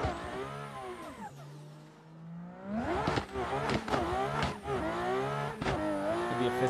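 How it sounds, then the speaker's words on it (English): A BMW E90 engine in the Assetto Corsa racing sim holds a steady idle-like drone, then revs hard and climbs through repeated upshifts. Each gear rises in pitch before dropping back, loud and close, with faint tire noise. "So we're going to go full send with this E90 for today's final car."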